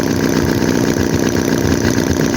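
A Holt H75 vintage four-cylinder engine idles steadily and smoothly up close, a continuous even chugging hum with no pauses, loud and alone.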